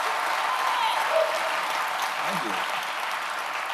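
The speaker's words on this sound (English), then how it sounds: "it's some non-Asians clapping too" Audience applause from a crowd at a talk show, a steady wash of clapping throughout, with a brief spoken thanks over it.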